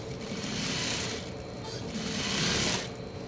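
Steady close whir of a sewing machine stitching seams on a shapewear girdle, running in a continuous rapid mechanical buzz that rises and eases in two bursts, with no talk.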